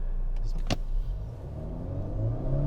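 A 2019 Volvo S60 R-Design T6 AWD pulls away hard from a standstill, its engine note steady and close inside the cabin with road rumble underneath, a brief sharp click early on.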